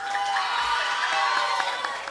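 Audience applause and light cheering for a third-grade spelling bee runner-up, a steady patter of clapping hands filling the room, with faint voices mixed in.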